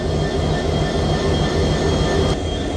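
The Jahanabad Express, a train of CRRC coaches, rolls by loud and close with a continuous heavy rumble of wheels on rails and faint squealing tones.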